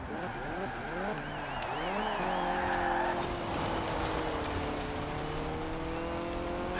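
Game car engine in Forza Horizon 4 during a classic rally event, revving and rising in pitch as it accelerates hard up a hill, loud and close, with a brief tire skid and no talk.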